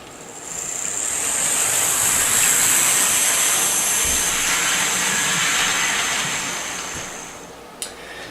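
IHC 2-6-0 Mogul model locomotive running on noisy track still glued to its roadbed, giving a steady broad hissing rumble that swells and fades over several seconds, ending with a brief click.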